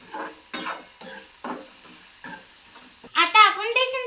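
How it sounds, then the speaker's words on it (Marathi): Chopped onion sizzles and fries in hot oil with curry leaves in a pan for a Maharashtrian dish, with steady spoon stirring and scraping throughout. Louder clatter and a brief voice-like tone come near the end. "आता आपण कांदा टाकला आणि आता भाजून घेऊयात."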